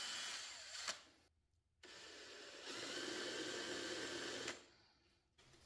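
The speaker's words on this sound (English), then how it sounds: "I drilled 2 holes in each frame, one on each side, and then countersunk them" Power drill boring holes in wooden frames, with two whining bursts separated by quiet gaps, the second burst longer and steady, close and fairly faint.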